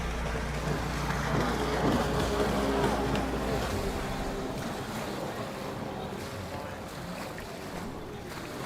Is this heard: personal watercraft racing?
yes